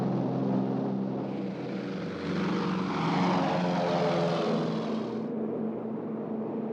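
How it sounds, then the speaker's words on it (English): Allied propeller airplanes flying overhead, a droning multi-engine roar with a steady harmonic hum that swells and holds, then its high end drops away as the aircraft pass, heard alone without voices. "the sound of Allied planes overhead brought back terrible memories"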